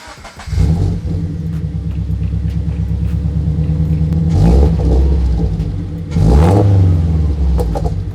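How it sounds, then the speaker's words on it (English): A wrecked Scion FR-S/Subaru BRZ/Toyota 86 engine that had failed to start turns over and catches, then idles roughly before being revved up twice, the rumbling swells rising and falling up close. "So we went ahead and got the car started"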